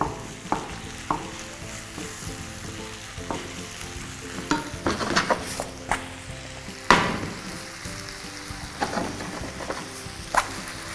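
Mushrooms and chicken sizzle steadily in a pan while stirred, with clinks and scrapes of a utensil against the pan at irregular moments.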